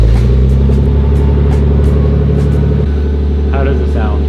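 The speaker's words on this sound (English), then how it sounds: "Next car, 1994 twin turbo right hand drive 6-speed Supra" A 1994 twin-turbo right-hand-drive six-speed Toyota Supra rumbles and revs up close, a loud low engine drone with a voice talking over it.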